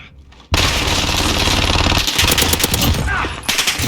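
Rapid automatic fire from a Fennec Vector submachine gun in a video game, a loud continuous burst starting abruptly and running for several seconds with a brief dip midway, no talking.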